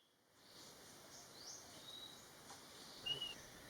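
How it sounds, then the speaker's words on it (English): A Large Scimitar Babbler (Erythrogenys hypoleucos) calls in a Thai forest, a faint, thin whistled note rising briefly near the end above steady insect buzz and soft ambient hiss. "This great bird not only looks unique, but has a really unique call as well."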